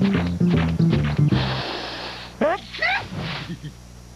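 A sharp, exaggerated cartoon-style sneeze bursts out after a build-up of rhythmic musical plucks, followed by a few quick whooshing sounds.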